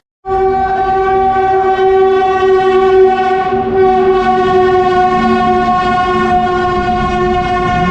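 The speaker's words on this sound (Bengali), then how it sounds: "আমাদের ট্রেন এখন এখানে এসে পৌঁছেছে" An Indian Railways Kolkata–New Jalpaiguri Intercity Express at Bardhaman station sounds a long, loud, steady horn with layered harmonic tones, sustained for several seconds over a rumbling engine, close by and without talk.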